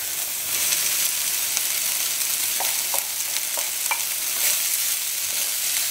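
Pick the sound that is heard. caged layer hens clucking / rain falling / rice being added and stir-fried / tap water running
rice being added and stir-fried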